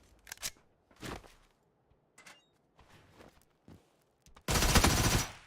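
A Scorpion submachine gun fires in a video game, with several short, sharp bursts spaced by brief silences, then a longer, louder burst near the end.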